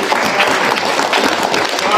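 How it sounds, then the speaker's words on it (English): Audience at a school spelling bee gives a full round of clapping, dense and fairly loud throughout, with a faint murmur of voices mixed in. "let's give them one more round of applause"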